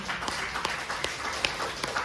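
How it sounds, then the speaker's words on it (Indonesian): Congregation clapping during a church worship service in Jakarta, a short burst of scattered, fairly soft applause with sharp individual claps over a murmuring background. "Kasih tepuk tangan buat Tuhan Yesus."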